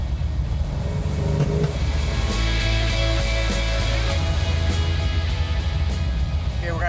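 A 1970 Dodge Challenger R/T with a 440 Six Pack V8, three two-barrel Holley carburetors and a 4-speed, rumbles loudly from inside the cabin while cruising around 50 mph, its engine note rising and shifting as it pulls.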